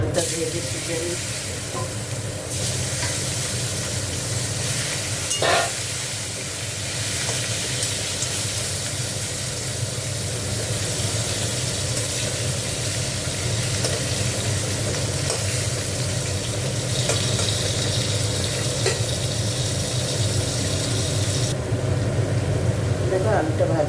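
Potatoes fry in oil in a pan, a steady loud sizzling hiss that continues throughout with occasional stirring scrapes, while a person talks over it.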